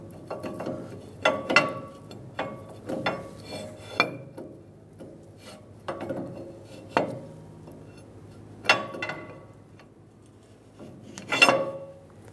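Clicking, grinding metallic clunks as a rear axle shaft on a 2003-2009 Dodge Ram 2500 is wiggled and spun to seat into the differential splines, with irregular close knocks and ratchety rubs.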